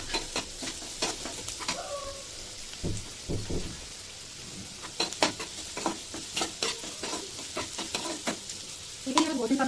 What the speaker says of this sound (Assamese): এইখিনি আমি গোল্ডেন কালাৰ পোৱালৈকে আমি ভাজি থাকিম।